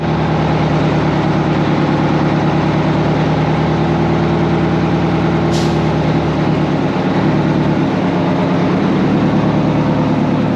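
A 1979 Freightliner FLC120 diesel truck engine idles loud and close, a steady low rumbling drone that holds evenly for the whole stretch with no talk.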